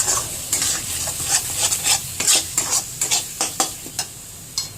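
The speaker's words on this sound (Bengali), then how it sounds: "মশলাটাকে আবার কষিয়ে নেবো। সামান্য একটু জল দেবো।" Masala sizzles in a pan, fried and stirred with a little water added for chicken kosha, with a steady hiss broken by frequent scraping strokes of a spoon in a fairly quick, uneven rhythm.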